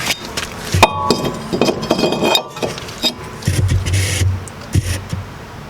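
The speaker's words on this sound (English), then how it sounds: "Go ahead and put our rotor back on." A brake rotor slides back onto a car's wheel hub during a lower control arm replacement, producing loud metallic clanks, clinks and scraping knocks close by, with no talking.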